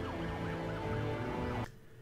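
An ambulance siren wails in rising and falling sweeps, steady and fairly close, then cuts off abruptly near the end.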